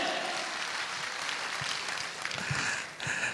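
A seated audience of longtime members at a motivational talk claps together, a dense, steady round of applause lasting a few seconds at moderate distance.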